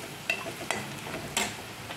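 A spoon scrapes and clicks against a pan while a capsicum and crushed peanut mixture is stirred over gentle heat, with three sharp taps over a faint, steady sizzle.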